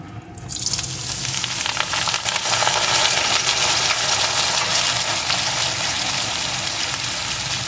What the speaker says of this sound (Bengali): এখন তেলটা ভালো রকম গরম হয়ে গেছে এখন কেটে রাখা পটলের টুকরোগুলোকে এর ভিতরে দিয়ে দেব